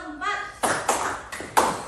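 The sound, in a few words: hand clapping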